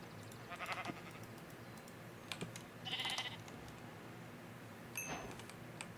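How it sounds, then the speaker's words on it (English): Blue-dyed Minecraft sheep at a base let out faint bleats, three short calls spaced a few seconds apart over a quiet background with light keyboard clicks. "I transported some sheep over to the base and dyed them blue"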